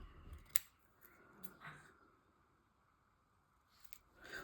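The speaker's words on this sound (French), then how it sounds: "Je vais venir pareil, couper à ras le trait rouge." Scissors snipping paper along a drawn line for a collage, a few quiet separate cuts with sharp little snaps spaced out over a few seconds, close and alone.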